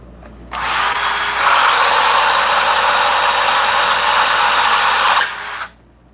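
A power saw spins up and cuts, a loud close whine holding steady for several seconds before winding down abruptly into quiet, alone without speech.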